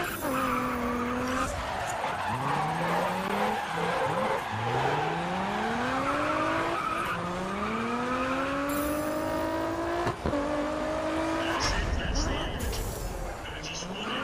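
Loud, sustained tire squeal from cars drifting in a GRID Autosport race, long sliding screeches rising and falling in pitch over engine revs, with brief pauses between slides.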